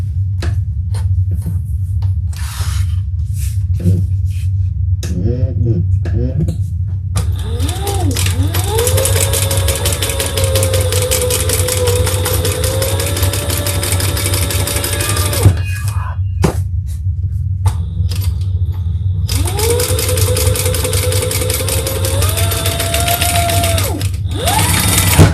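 A sewing machine runs in long steady stitching bursts while top stitching a crossbody bag, with a sustained whirring tone that stops briefly and restarts, over a constant low hum.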